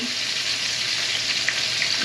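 Oil sizzles and crackles steadily as oxtails fry in a pan, a continuous close hiss with occasional small pops.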